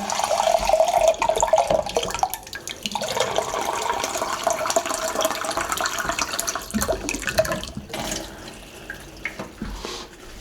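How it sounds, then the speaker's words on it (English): Water pours steadily into a homemade plum wine container with a rushing, splashing sound that shifts in tone as it fills, then trails off to lighter trickles. "all I need to do now is top up the water."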